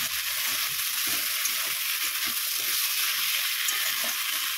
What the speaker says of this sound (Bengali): আর বেটে রাখা ধনে জিরে আর মৌরিটাকে দিয়ে এটাকে ভালো করে একটু কষিয়ে নেব।